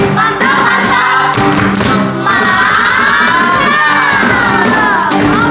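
Children at a Sunday school service chant and clap together in a loud, lively burst, voices rising and shouting over scattered claps, close and energetic throughout.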